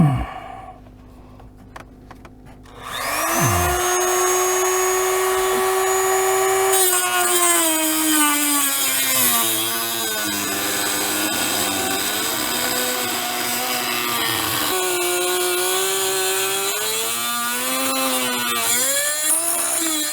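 A Dremel rotary tool starts up after a quiet moment and grinds down a piece for a long stretch, a loud high whine whose pitch dips and rises as it bites into the material.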